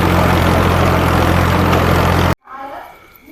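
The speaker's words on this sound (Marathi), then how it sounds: "चला जाऊ घराकडे ट्रॅक्टर घेऊ" A farm tractor engine runs loud and steady close by at dusk, a constant low rumbling drone that suddenly cuts away, leaving only faint background noise.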